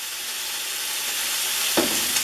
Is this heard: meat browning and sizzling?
yes